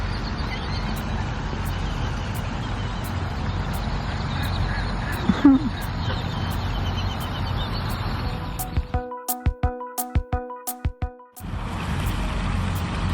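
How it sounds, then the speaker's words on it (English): Ducks quack while being fed at a park in the Lower Rio Grande Valley, Texas, a few honking calls over steady outdoor background noise, followed by a cluster of sharp clicking and tapping sounds. "Somebody's feeding the ducks,"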